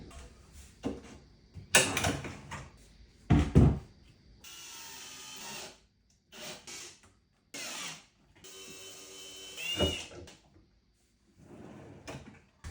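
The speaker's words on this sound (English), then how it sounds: "Let's put the doors and drawers on." Painted kitchen cabinet doors and drawers being fitted back on: a series of wooden knocks, slides and thumps, with drawers rolling shut and doors clacking into place at irregular intervals, close by.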